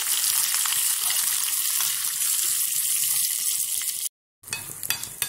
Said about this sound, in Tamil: இப்போ வெங்காயத்தை போடலாம். இதை கொஞ்சம் நேரம் அப்படியே வதக்குங்க.